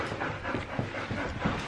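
A dog panting and jumping against a door indoors, rapid breathy panting in a steady rhythm with soft thumps, close and fairly quiet.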